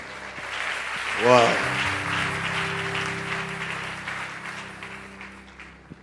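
A church congregation claps and cheers in praise, a broad wash of applause filling the room while a voice briefly exclaims over it and a sustained tone hums beneath, the clapping slowly thinning out.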